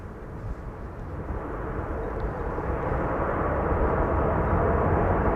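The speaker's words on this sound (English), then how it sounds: "That's the reversers." A landing airliner's thrust reversers roar at Amsterdam Schiphol: a loud, steady broadband rumble that swells gradually and holds strong to the end, with no voices.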